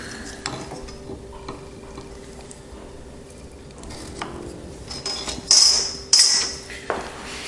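Woodworking vise being tightened for mortise and tenon work, with quiet mechanical clicks and knocks leading to a few louder sharp metallic scrapes and clunks near the end, close and without talk.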